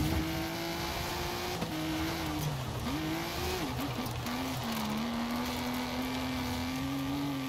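A Ford Transit truck in the racing game Forza Horizon 5 gives a continuous, loud engine drone whose pitch rises and dips through gear changes and throttle shifts, with faint tire and road noise beneath.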